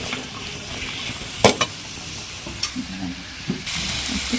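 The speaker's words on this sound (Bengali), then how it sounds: "ভালোভাবে ভেজে নেব।" Capsicum, beans, peas and green chillies frying in a pan, a low steady sizzle broken by a few sharp scrapes and clinks of stirring, with no talk.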